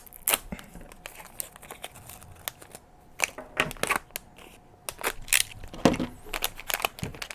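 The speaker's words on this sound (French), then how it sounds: "je vais le déballer là" Close crinkling, tearing and rustling of cardboard and plastic packaging as a boxed filament detector for an Ender 3 printer is unpacked, in irregular bursts with short pauses.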